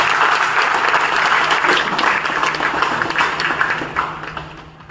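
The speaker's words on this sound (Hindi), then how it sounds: "प्लीज जोरदार तालियों से स्वागत करिए" An indoor audience at a company salesman training program gives loud, sustained applause, a dense crowd of clapping hands that swells and then tapers off toward the end.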